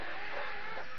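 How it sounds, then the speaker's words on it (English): A hen clucks close by, a short burst of low throaty calls from a backyard chicken near its eggs, heard alone without talk. "Is it a cock or something, or a chicken?"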